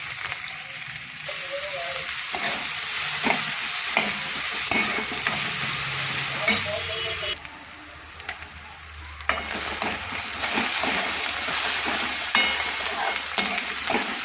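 Onion fries in a pan for a spiced chickpea curry, a close, continuous sizzle broken by repeated scraping stirs and brief clatters, with a short quieter gap partway through.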